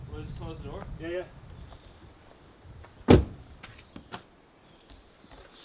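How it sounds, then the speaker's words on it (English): At an enduro mountain bike race, a car door shuts with one sharp, close thud midway, followed by a few softer knocks and rustles, with people talking beforehand. "close the door?"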